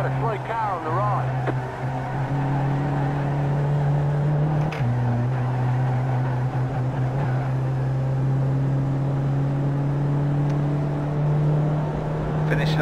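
Sim racing engine from iRacing holds a loud, continuous hum that steps in pitch with gear changes, a brief burst around mid-clip, with a driver's commentary layered over it.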